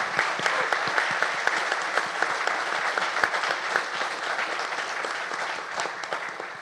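Sustained audience applause welcomes IBM CEO Arvind Krishna at a University of Illinois fireside chat, a steady dense patter of clapping from a large crowd lasting throughout without talk.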